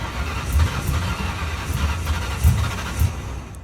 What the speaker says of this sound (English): as the transport service was trying to start the car, it appeared that fuel was being shot out of the tailpipes